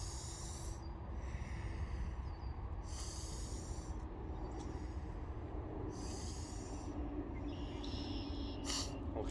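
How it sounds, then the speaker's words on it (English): Buddha's breath, a martial arts breathing technique, comes as several long, hissing breaths at an even rhythm, close and fairly loud with short pauses between them. "So Buddha's breath here again."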